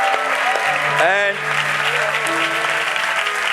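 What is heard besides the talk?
audience applause for Yeshua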